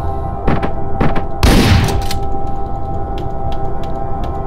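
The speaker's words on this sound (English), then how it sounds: "Now you kill this guy with a shotgun." A shotgun blast in the top-down action game Hotline Miami: one loud, broad burst of gunfire around the middle, with a few sharper game impacts before it, all over a steady music bed.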